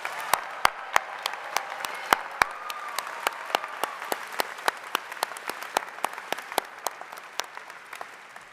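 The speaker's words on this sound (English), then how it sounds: "Another round of applause for our Rackham Masters graduates." Scattered, sparse clapping for master's graduates at a university graduate ceremony in a large hall, individual claps spaced out and sounding somewhat distant for about eight seconds.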